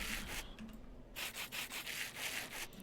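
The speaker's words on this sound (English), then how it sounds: "I hold the rose quartz in one hand and the sandpaper in the other, and there it goes." Sandpaper rubbing against rose quartz in a modded Minecraft game, a faint rasping scrape in short repeated strokes with a brief gap midway.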